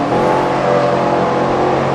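A NASCAR-style race car engine drones at Richmond Raceway in the NR2003 racing game, a steady, loud, buzzing roar held at constant pitch without pauses.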